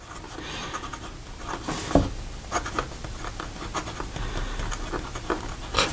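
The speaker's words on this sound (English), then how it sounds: "let's have a writing sample, and here we have the Visconti" An extra fine nib on a Visconti Homo Sapiens Magma fountain pen scratches and glides softly across paper in short strokes with small pauses, close and quiet, with no talking.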